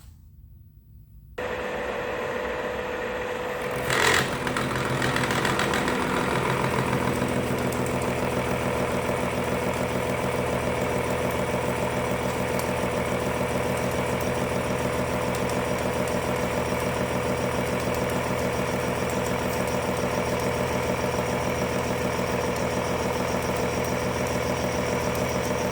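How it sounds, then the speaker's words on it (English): A milling machine cutting steel for nuts starts up after a short quiet moment, then holds a loud, steady mechanical drone and hum for the rest of the clip, with no talking. "So we'll head over to the milling machine, big auger, and we'll get all these chomped out ready for the other features."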